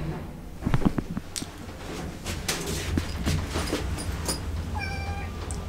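A pet cat meows several times in short, high-pitched calls near the end, following scattered rustling and soft thumps at close range with no talking.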